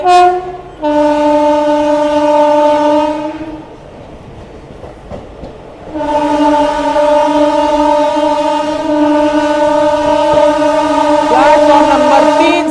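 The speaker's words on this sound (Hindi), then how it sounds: "हमारी ट्रेन इटावा जंक्शन को अभी स्किप कर रही है मेन लाइन से" A festival special train runs at speed on the main line past Etawah Junction, sounding two long, loud blasts of its horn between which the wheels drum and clatter on the rails.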